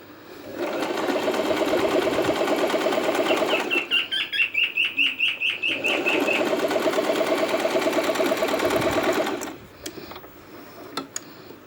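A Singer Promise 1408 sewing machine hems fabric, running in two long steady bursts of rapid stitching. Between them comes a slower, evenly ticking stretch. The machine stops near the end, followed by a few faint clicks.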